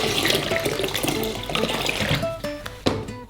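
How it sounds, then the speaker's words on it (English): Orange juice pours into a saucepan holding chopped pineapple, a steady close splashing rush of liquid that gurgles and thins toward the end, with light clinks of the pan. "Pour in some orange juice."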